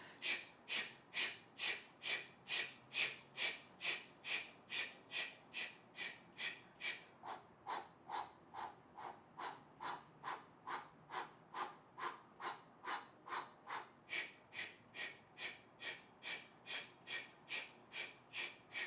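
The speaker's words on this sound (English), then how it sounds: "Breathing through the mouth." Rapid, rhythmic mouth breathing during a vigorous core exercise in a yoga practice, about forty sharp, evenly spaced exhales pumping steadily, close and clear with no talking.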